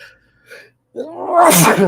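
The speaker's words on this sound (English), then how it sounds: "Try not to" A single loud, sharp sneeze bursts out close by after a couple of faint breaths, ending in a harsh noisy blast.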